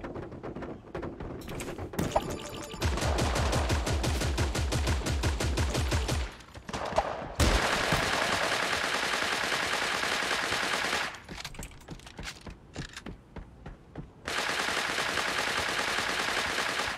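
Gunfire in the video game Creative Destruction, long loud bursts of rapid automatic shots with a few single reports between them, sustained and close.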